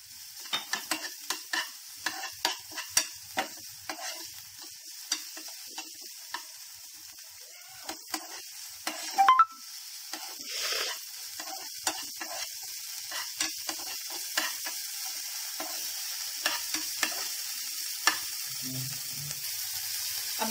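Finely chopped onion sautés in a pan: a quiet steady sizzle with many sharp spatula scrapes and taps against the pan in an irregular rhythm.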